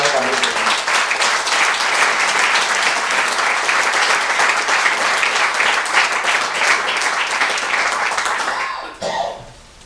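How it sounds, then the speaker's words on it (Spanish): A large crowd at a public political rally in Madrid against health care cuts breaks into loud, sustained applause, dense clapping that holds steady for several seconds before quickly dying away. "yo pediría un aplauso a estos compañeros que lo están pasando francamente mal."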